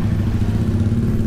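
A motorcycle engine idles with a steady, low, throbbing rumble, loud and close.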